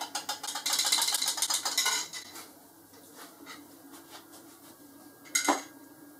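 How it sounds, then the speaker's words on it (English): A spoon clinks and scrapes around inside a container while stirring a homemade fizzy drink with Coke, a quick run of rapid metallic taps at first, then quieter scattered clinks and one sharp knock near the end. "I'll just stir it a little bit"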